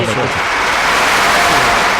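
Radio sound effect of a crowd applauding with whistles: a dense, steady wash of clapping noise that holds at an even, fairly loud level for about two seconds.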